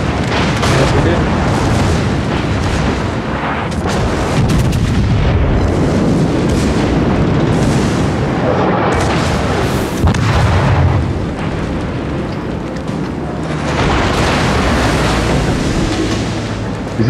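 Naval gunfire in the World of Warships co-op game: dense, continuous booming and rumbling of cannon blasts and explosions throughout, loud and layered, with players talking over it.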